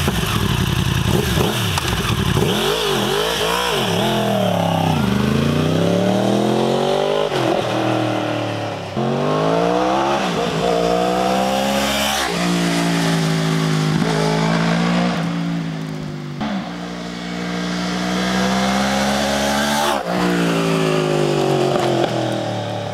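A Yamaha R1 sport motorcycle with a carbon G-Scape exhaust roars loudly and continuously as the rider shifts through gears, pitch climbing and dropping with each rev, close and without talk.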